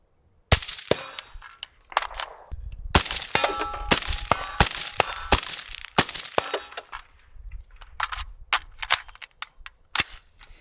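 An MK12 MOD S rifle fires repeated sharp shots at steel targets outdoors, with each crack followed by distant metallic pings, irregularly spaced over about ten seconds.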